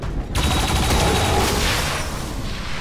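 Sustained turret gunfire in XCOM 2, a dense, loud burst of rapid shots that rolls on for nearly three seconds after a brief quiet start.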